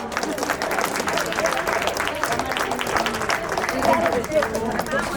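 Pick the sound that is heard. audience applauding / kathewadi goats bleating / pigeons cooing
audience applauding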